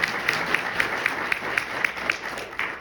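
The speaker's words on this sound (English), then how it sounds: "You can just give her a nice polite round of applause" A conference audience at the IPO Spring Summit applauds a senator's keynote with a steady, dense wash of clapping and scattered sharper claps running throughout, fairly loud and without talk.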